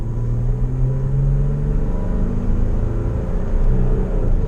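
A Toyota Tacoma TRD Off-road pickup with a 3.5-liter V6 accelerates from inside the cab, a loud, steady low engine rumble with a rising tone, without speech.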